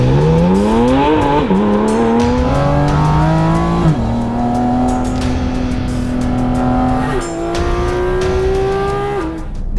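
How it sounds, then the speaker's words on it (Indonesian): Porsche 718 Cayman GT4 RS engine driven on a public road, loud and close, revving through rising gears with clear pitch drops at each shift, alone without talk. "membawa kalian merasakan kecepatan dari Porsche GT4 RS ini di jalan raya"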